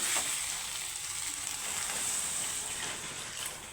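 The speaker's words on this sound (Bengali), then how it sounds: "এখানে আমি দিয়ে দিব জল" Water is poured into a pot of shukto curry, setting off a steady hiss and sizzle that bubbles on continuously and fairly close, with no voices.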